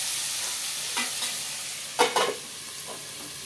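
Tomato pieces fry in oil for a dry fish curry, giving a steady close sizzle with a few soft stirring scrapes and clicks from a utensil partway through. No one speaks.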